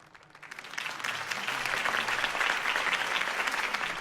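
Applause from a large crowd in the Telltale Batman video game swells up after a quiet start and continues steadily, a dense wash of clapping heard from some distance.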